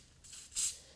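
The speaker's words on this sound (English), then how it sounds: "This is a Wilton colour mist." Wilton Color Mist gold spray can giving a short hissing burst onto a cake pop, a brief puff followed by a louder, longer spray, close and quiet with no talking.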